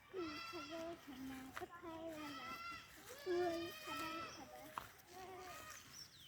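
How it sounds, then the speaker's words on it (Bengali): A young goat kid bleats again and again while suckling milk, nearby and fairly soft, each call a wavering nasal cry with short pauses in between. "দেখছো ছাগল ছানা দুধ খাচ্ছে বাবা"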